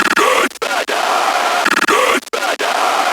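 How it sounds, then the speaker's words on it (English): A heavy, distorted scream sample sits in an electronic bass-music drop, loud and sustained in repeated bursts with brief sharp cutoffs between phrases. "Then I put on the back this heavy scream."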